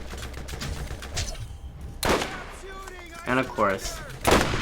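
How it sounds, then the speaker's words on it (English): A sniper rifle fires in the video game Borderlands, with sharp booming reports at about two seconds and again near four and a half seconds, and someone speaking briefly between the shots. "Alright, time for a sniper shot."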